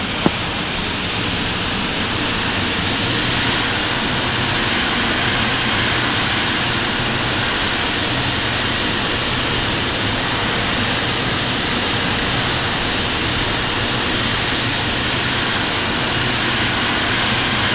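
Boeing 777-300ER engines in the Infinite Flight simulator hum while the airliner taxis, a constant broadband roar that holds steady throughout with no talking.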